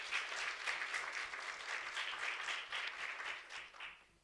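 Sustained audience applause at a women-in-media awards event in South Africa, dense steady clapping from many hands throughout, with no talking over it.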